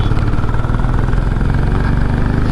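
A Royal Enfield motorcycle with a 150 cc engine runs steadily up close, a continuous low throbbing engine note with no break and no voices.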